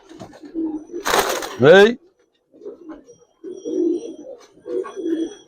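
Giribaz pigeons coo in soft, low bursts as a pair is let go, with someone talking between the calls and a short rustle near the start.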